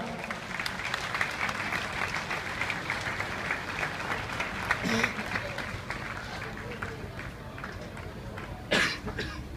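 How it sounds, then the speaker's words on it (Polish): An audience applauds at an evening event in Milicz, sustained clapping with some coughs and throat clearing at moderate distance, a brief louder burst near the end, and murmuring voices underneath. "duże brawa"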